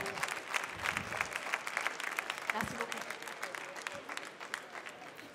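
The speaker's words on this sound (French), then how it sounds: "On peut applaudir les juges encore une fois, s'il vous plaît" Audience at a national barista championship final applauding the judges, a lively crowd of clapping with sharp individual claps and some cheering, while a voice speaks briefly over it.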